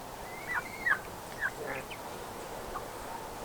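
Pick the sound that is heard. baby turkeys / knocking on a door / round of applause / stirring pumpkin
baby turkeys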